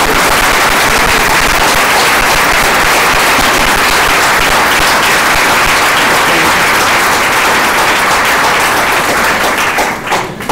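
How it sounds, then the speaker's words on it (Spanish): An audience at an urban planning debate gives a long, loud burst of applause, dense continuous clapping with no pause that thins slightly at the very end. "quiero que les deis un aplauso."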